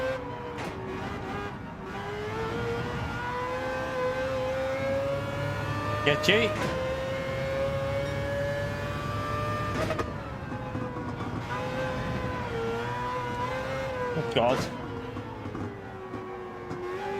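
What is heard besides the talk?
race car engine in Gran Turismo 7 video game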